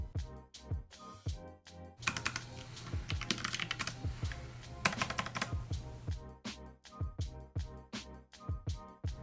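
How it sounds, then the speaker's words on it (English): Rapid typing on a Keychron K3 mechanical keyboard with brown switches, close up, with crisp clacks in bursts and a few heavier key strikes, like a spacebar, between flurries. "keyboard is Keychron K3 brown switch with RGB backlight"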